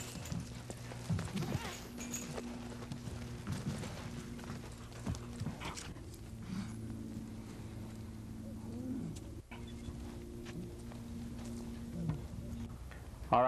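A calf roping horse works through training stops, its hooves thudding in a steady, repeated clip-clop at moderate distance under a low, constant hum, with faint bird chirps now and then.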